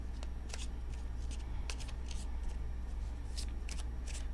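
Tarot cards are shuffled by hand in a series of quick crisp riffles and slaps, some bursts doubled, spaced irregularly over a low steady hum.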